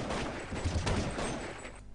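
Dense gunfire crackles through a Counter-Strike 1.6 match on de_dust2 at a grand-final tournament, a rapid, loud flurry of overlapping shots over about two seconds.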